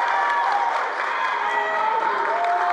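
A gym crowd at a high school basketball game, Farragut at William Blount, cheers and applauds after a two-hand dunk: a steady, dense roar of voices and clapping that holds at full level throughout.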